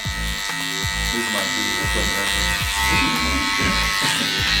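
Electric hair clippers buzz continuously and close up while fading a self-haircut, with a steady motor drone broken by short strokes through the hair, under someone talking.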